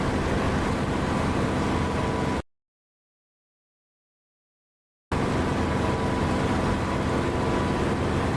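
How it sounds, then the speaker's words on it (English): Steady, loud roar of an aircraft engine heard with the canopy open in the DCS flight simulator, broadband rushing drone that cuts to silence for about three seconds before resuming unchanged. "I just like the sound of this engine with the canopy open"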